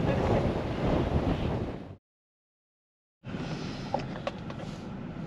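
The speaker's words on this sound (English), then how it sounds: "the wind is whipping at like 45 miles an hour" Strong wind at a New Jersey surf beach roars across the microphone with surf underneath, breaking off into a second of silence before the gusty rush resumes.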